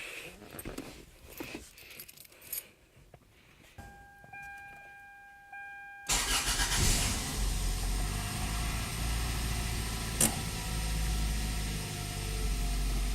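A Toyota Corolla with crash damage, idling a little high and smelling of gasoline; a door or key jangle comes first, then from about six seconds a steady, close engine idle with a constant low drone.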